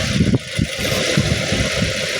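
A Ford Fiesta engine turns over and runs close by with a pulsing, uneven chug, held steady throughout a brief moment.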